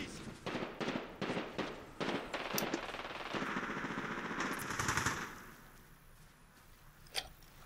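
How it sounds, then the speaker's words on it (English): Gunfire in the video game Medal of Honor Warfighter: rapid bursts of automatic fire crackle close and sharp for several seconds, followed by a sustained rush of shooting and a lone later shot, with no talking. "Someone's shooting at me."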